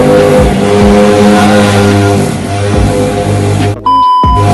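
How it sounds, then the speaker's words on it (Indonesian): Loud, steady roadside traffic rushes past a spot where a modified Honda Beat FI 120 cc scooter is parked, with engines roaring and revving continuously before dropping off abruptly near the end. "Sorry agak bising soalnya gue nge-review di pinggir jalan."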